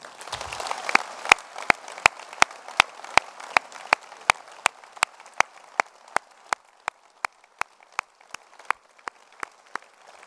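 An audience at a mayor's New Year ceremony claps in a sparse, slowing rhythm, with sharp, distinct claps at first quick then spreading out, as the applause thins into a few isolated hands.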